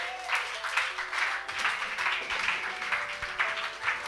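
A church congregation claps steadily and fairly loudly for about four seconds, a continuous wash of many hands with no voices standing out.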